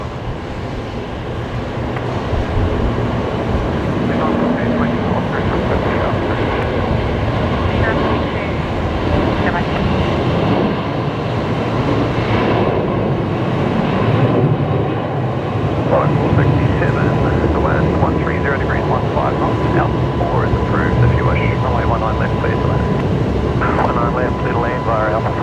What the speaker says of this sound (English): A330 of China Eastern heading off.